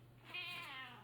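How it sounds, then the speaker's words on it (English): A house cat meows insistently indoors, one drawn-out, wavering call that swells and fades, close and fairly loud with no talking over it. "there, the cat is harassing me again."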